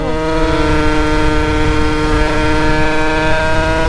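A Derbi DRD Pro 50cc motorcycle engine while riding, a loud, steady, buzzing two-stroke drone holding a near-constant pitch for the whole stretch, close up, with no talk.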